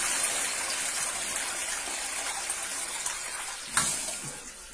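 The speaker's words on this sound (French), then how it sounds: "tirer la chasse d'eau." A toilet flushing after a blocked bowl has been plunged, a steady rushing gush of water that runs throughout, fairly close, with a brief knock near the end.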